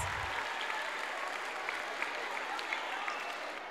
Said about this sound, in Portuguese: palmas para os dois.